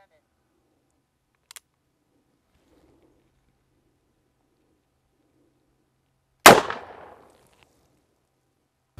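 A Cimarron Bad Boy .44 Magnum revolver fires a single sharp, loud shot outdoors after several quiet seconds, and the shot rings out with a short decaying echo.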